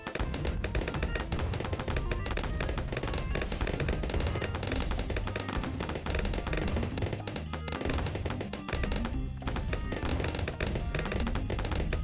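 Bomb Shooter tower in a tower-defense video game firing frag bombs, a dense, continuous barrage of rapid explosive pops and bangs layered over busy game audio, loud and unbroken throughout.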